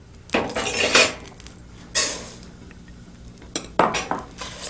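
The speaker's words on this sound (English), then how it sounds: "we're going to saute our rice with a little dash more ghee" Rice is tipped into a pan and sautéed in ghee, heard as a few distinct bursts of rattling grains and metallic clinks of a spoon against the pan, with quiet pauses between and a faint sizzle.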